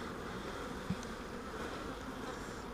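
Honeybees hum steadily around a hive frame newly placed in the middle of a beehive, a dense, even drone close by, with one brief louder buzz from a single bee passing near.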